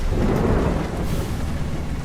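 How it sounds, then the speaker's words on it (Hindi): Loud rumbling thunder rolls over a dense wash of heavy rain, continuous and close throughout. "बिजली चमकती है, जोरदार बारिश शुरू हो जाती है।"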